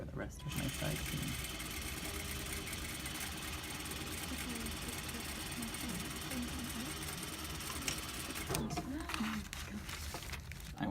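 A sewing machine stitches a skirt side seam, a steady low mechanical whir running almost without pause, with a brief break near the end.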